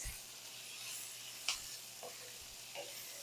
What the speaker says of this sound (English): I'm gonna get those stirred around and just cook them for a minute or two. This pan is pretty hot.